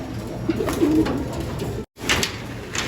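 Racing pigeons in a loft give low, soft cooing calls close by, several short coos over a mild background hum, with a brief break partway through.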